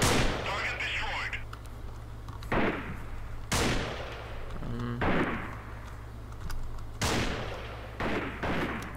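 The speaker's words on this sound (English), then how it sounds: "they're shooting over to my right" A war video game battle produces several loud gunshot bursts at irregular intervals, each decaying over a background hum, and a voice is heard between them.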